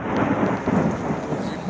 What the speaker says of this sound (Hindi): बारिश बिजली है जो बहुत ही गरज रही है